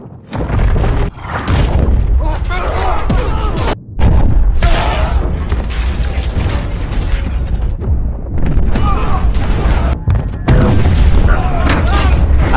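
A rocket blast strikes the submarine Arkansas in the film Hunter Killer. Heavy booming explosions and rumbling impacts fill the whole stretch loudly and continuously, with brief drops near four and ten seconds, mixed with voices and battle noise.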